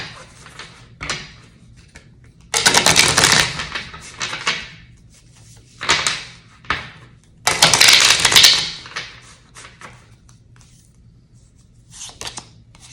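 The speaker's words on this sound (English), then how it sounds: "Do a good hard shuffle." Tarot oracle cards are shuffled hard in several loud, crisp bursts of riffling and flicking, separated by short quiet gaps, close up with no talking.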